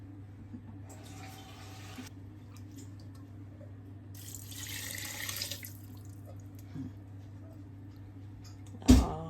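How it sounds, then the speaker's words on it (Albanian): Water runs from a tap into a pot while ingredients for traditional Balkan plenc are rinsed and topped up, in two separate splashing pours over a quiet kitchen hum, ending with a sharp knock. "E shpërlajmë pak, I shtojmë pak ujë."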